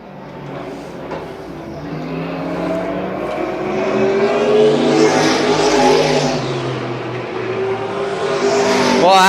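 Palmetto Vintage Racing Club race cars roar around Dillon Motor Speedway, a short track in Dillon, South Carolina, engines droning and building steadily louder as the pack approaches.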